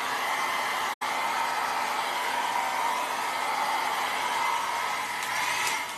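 A purple hair dryer blowing steadily and close, a continuous airy whoosh with a brief cut near the start and no talking.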